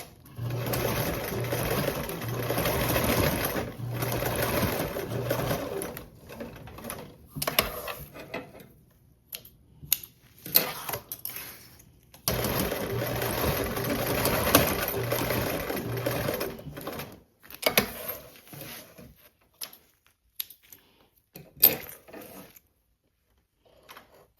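Sewing machine basting a fabric seam for a travel bag: fast, steady mechanical stitching runs in several long bursts separated by pauses, interspersed with soft clicks and handling of the fabric.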